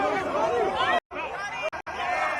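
A crowd at a street gathering in New York fills the air with dense, loud chatter and overlapping voices, broken briefly by a few abrupt cuts to silence.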